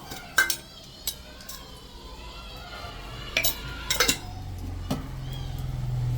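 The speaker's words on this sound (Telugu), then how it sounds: "ఇట్లా దీన్ని బాగా మిక్స్ చేయడం వల్ల ఆయిల్లో బాగా కారం, పసుపు అంతా బాగా మిక్స్ అవుతుంది" A spoon stirs chili powder and turmeric into oil in a metal vessel for mango pachadi, giving sparse metallic clinks and scrapes at irregular intervals over a low steady hum.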